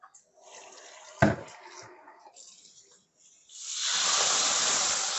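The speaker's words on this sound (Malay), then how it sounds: "Okay, sekarang kita masukkan air." Water poured into a hot pan of frying onions, bursting into a loud, steady hissing sizzle after a sharp clatter and quieter cooking noises; close and continuous.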